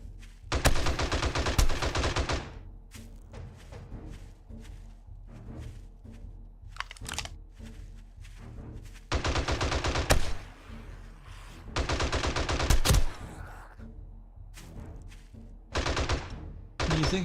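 Automatic M60 and SMG turrets in the 7 Days to Die video game fire at zombies during a blood moon night, loud rapid bursts of machine-gun fire separated by short pauses, repeated several times over a low ambient bed.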